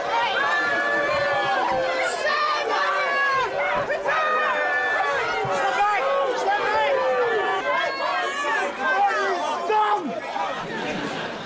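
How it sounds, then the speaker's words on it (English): A large crowd reacts loudly as Theresa May leaves, a dense, continuous mass of overlapping shouting voices that stays close and strong throughout. "Here's some raw footage capturing the strong reaction of the crowd as she left"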